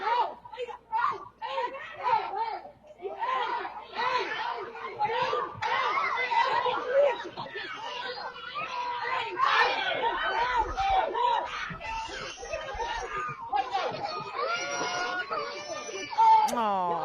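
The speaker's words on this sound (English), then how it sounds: "Listen to the screaming and the cries of the children." Children screaming and crying, picked up by a Ring camera: a chaotic mix of many young voices shrieking, wailing and shouting, fairly distant and continuous, with adult voices mixed in.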